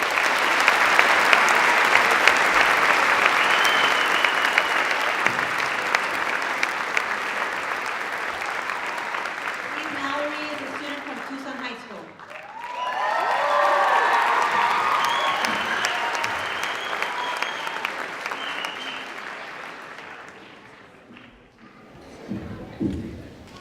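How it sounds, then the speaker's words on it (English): An auditorium audience at a student recognition ceremony gives sustained applause for a scholarship award winner, a long, loud wash of clapping that fades, swells again, then tapers off with a few thumps near the end. "I hope you would all help me in giving a big round of applause for this year's AXA Community Leader Scholarship Award winner"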